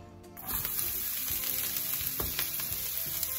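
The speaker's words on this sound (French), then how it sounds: "On va faire revenir du basilic, du sel et du poivre." Halloumi cheese and basil with salt and pepper sizzle in a hot pan, a sudden burst of frying as the food hits the oil, then steady crackling hiss with light stirring scrapes, close and alone.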